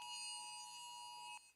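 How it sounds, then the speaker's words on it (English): The national emergency alert goes off on phones in Doha, Qatar: a loud, steady electronic tone with harmonics that holds for over a second, then breaks off abruptly, followed by a short rustle. "the National Emergency Alert System has gone off here in Qatar"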